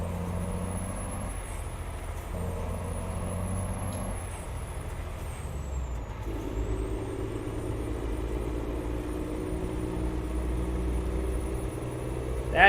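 Heavy truck engine in Euro Truck Simulator 2 droning steadily inside a tunnel, a low continuous rumble with a rising tone in the second half and a brief air-brake hiss near the end.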